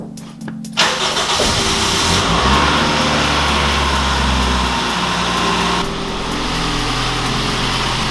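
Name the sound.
vehicle engine running at first startup after oil cooler install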